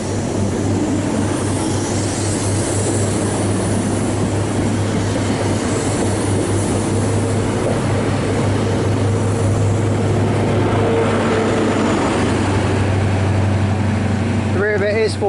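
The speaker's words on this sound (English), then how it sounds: "departing now is the 11:43 Great Western Railway service from Paignton to London Paddington" A Great Western Railway passenger service pulls out of Bath Spa station on the Great Western Main Line and rumbles past up close, with a steady mechanical drone and rising wheel noise. Someone talks throughout.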